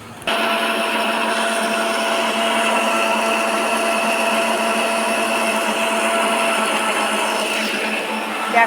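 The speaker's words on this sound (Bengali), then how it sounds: "তো এইদিকে ব্লেন্ডারটা করে নিই মশলা" An electric blender grinds spices with a loud, steady motor whine, close by, starting abruptly and running without pause for several seconds.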